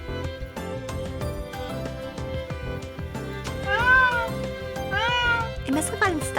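Several plaintive, distressed kitten meows rising and falling from a kitten stuck up high in the video game Illusion of Itehari, repeated over steady background music with plucked notes.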